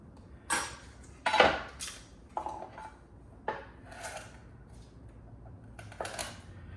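Sharp clicks and clattery taps from garlic cloves being peeled for pork carnitas on a kitchen counter: a handful of separate, near knocks spread unevenly over several seconds, with quiet pauses between them.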